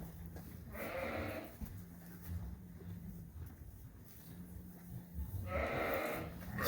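Sheep bleat twice during lambing season, a nasal call near the start and another near the end, over a quiet farmyard background.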